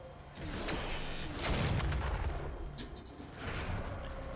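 Autocannon fire from a mech in the MechWarrior 4: Vengeance video game, a steady stream of loud booming shots and crackling gunfire layered over dense battle noise, with a heavier burst near the middle.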